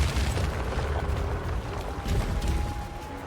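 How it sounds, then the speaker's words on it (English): Shocking turrets firing lightning projectiles in a Path of Exile 2 trial room, a continuous crackling, booming barrage of electric bursts with a faint tonal hum running underneath, steady and fairly loud with no voices. "dealing with the lightning projectiles from the shocking turrets"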